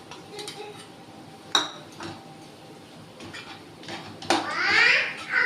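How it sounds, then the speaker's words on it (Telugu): Cashews and raisins stirred into semolina halwa in a pan, with a few close metallic clanks of a spoon against the pan and scraping, rising into a brief louder scrape and sizzle toward the end. "ఇలా తయారైన హల్వాలో మనం వేయించి పెట్టుకున్న జీడిపప్పు కిస్మిస్ వేసి కలుపుకోవాలి"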